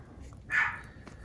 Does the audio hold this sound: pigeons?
no